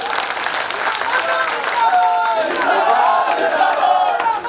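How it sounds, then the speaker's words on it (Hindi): A crowd at a political rally claps and cheers loudly and continuously, with shouting voices and calls rising over the applause. "तो उनके लिए भी ताली बजाइए जोर से"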